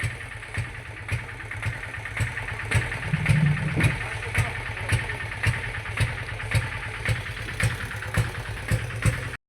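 An auto rickshaw engine idles close by at Vanakbara fishing harbour while boat cargo is unloaded, a steady low chug ticking regularly throughout, with a brief louder rev in the middle.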